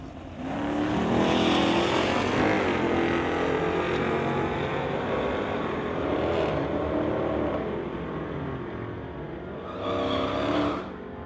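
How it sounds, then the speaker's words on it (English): A 1972 Chevrolet Nova with a 350 and a 1975 Nova with a 427 drag racing at a Friday night street legal event, loud sustained engine roar building and holding, then fading with a brief second surge near the end. "'72 Nova with the 350. Going against the 75 Nova with the 427."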